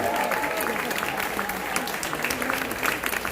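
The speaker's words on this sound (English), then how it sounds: "One more round of applause for Jeffrey Banks, yo." Audience applause for a performer at a Chicago Latino theater festival, a steady wash of clapping throughout with some voices mixed in.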